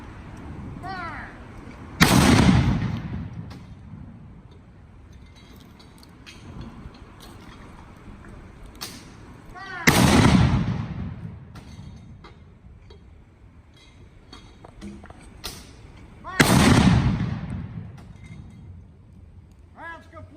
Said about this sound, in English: Fire mission. The howitzers ready.